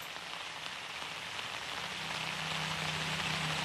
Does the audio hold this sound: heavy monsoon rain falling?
yes